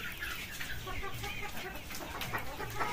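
Native desi hens clucking steadily on a small poultry farm, several birds close by in continuous overlapping chatter with no talking.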